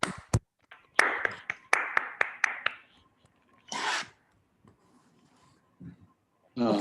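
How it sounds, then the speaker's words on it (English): Scattered applause from online participants after an academic talk, heard as bursts of clapping and hand noise picked up over microphones, uneven and patchy rather than a full crowd. "ask participants all to unmute and give a round of applause to Alex"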